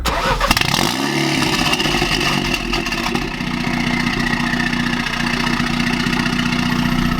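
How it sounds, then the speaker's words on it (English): A manual-transmission car engine cranks and catches, then settles into a steady, close idle that runs on alone with a low constant hum. "let's go ahead and let's fire it up"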